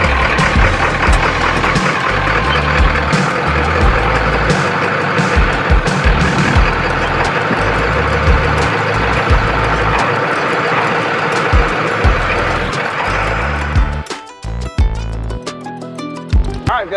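A 1972 Ford F100 pickup engine runs steadily and loud while towing a trailer, giving a continuous rumbling drone with lighter knocks and clunks near the end.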